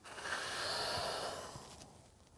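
Long, audible breath drawn during morning exercise, a smooth airy rush close to the microphone that swells and then fades over about two seconds, with no talking.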